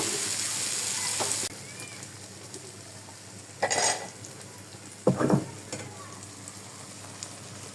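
Quiet oil sizzle as figs fry in a pan, with a steady hiss broken by two brief bursts of louder spattering and a few light clinks.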